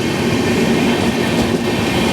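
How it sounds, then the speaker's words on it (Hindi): The Secunderabad Tirupati Express runs past with a loud, steady rumble and rolling wheel noise, continuous and close throughout. "तो ये ट्रेन है सिकंदराबाद तिरुपति एक्सप्रेस"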